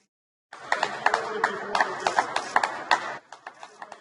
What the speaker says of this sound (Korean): 의료진에게 박수로 고마움을 표시하는 행사에 동참한 겁니다.